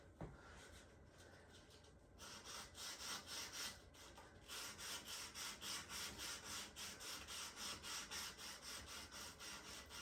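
A hand file drawn in steady, even strokes along metal edges to smooth off burrs, a rhythmic rasping that grows louder and regular after a short quieter start, with no voices.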